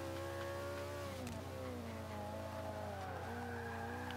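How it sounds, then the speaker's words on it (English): A McLaren P1 in the Forza 5 racing game accelerating in a lower gear, a steady engine drone with rising and falling pitch and brief tire squeal, continuous and moderately loud with no talking. "We're gonna put this in lower gear and accelerate through."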